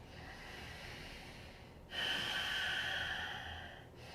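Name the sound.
constricted-throat yoga breathing with audible wave-like sound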